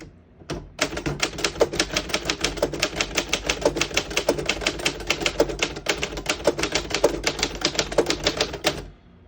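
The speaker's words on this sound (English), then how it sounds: "I'll type a sentence in red on the next line." Steady run of typing on a 1909 Remington No.12 antique desktop typewriter printing on the red part of the ribbon, dozens of crisp, even key strikes at close range, no talk, ending after about nine seconds.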